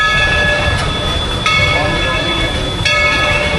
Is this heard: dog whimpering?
no